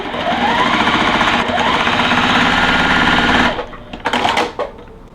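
A sewing machine runs steadily for about three and a half seconds while stitching a quilt block seam, with a loud, close mechanical whir. It then stops, leaving a few brief clicks and fabric handling sounds.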